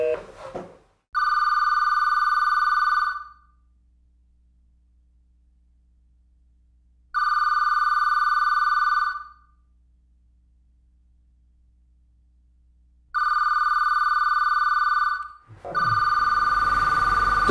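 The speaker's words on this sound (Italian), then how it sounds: "Il telefono suona ma lui non risponde" An office telephone rings in three long, even bursts separated by silent pauses, each loud and near. A fourth ring starts and then breaks into a muffled clatter.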